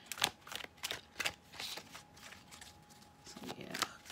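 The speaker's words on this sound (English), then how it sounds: "I like overhand shuffles, so my cards can like come out at will" Tarot cards being overhand shuffled by hand in quick, uneven bursts of soft riffling and slapping, close up and fairly quiet.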